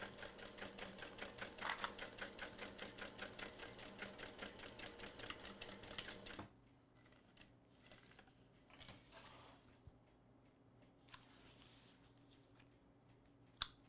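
A sewing machine stitches fabric for a portable gaming console case rapidly and steadily for several seconds, then stops, leaving quiet handling clicks and rustles.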